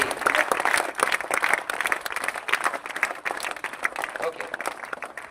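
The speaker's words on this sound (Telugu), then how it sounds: "తమ్ముడు శ్రీ ఆవుల అశోక్ గారిని వేదికపైకి సాధారణంగా చప్పట్ల ద్వారా ఆహ్వానిస్తున్నాము." A crowd at a school education-department function claps steadily to welcome a guest onto the stage, a dense, even patter of applause with voices mixed in.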